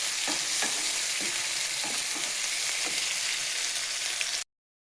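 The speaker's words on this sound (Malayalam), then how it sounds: "വഴറ്റിയെടുക്കാം" Tomato, ginger-garlic paste and curry leaves sauté in a hot pan with a steady close sizzle, broken by a few soft stirring scrapes, before the sound cuts off abruptly near the end.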